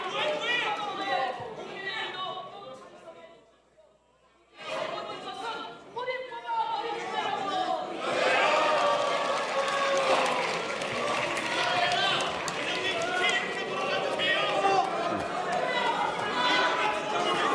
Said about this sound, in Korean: 소리를 친다거나 박수를 친다거나 하는 것은 안 하는 게 본회의장 예의입니다